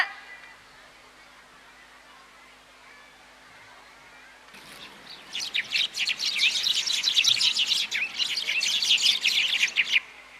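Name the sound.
sparrows chirping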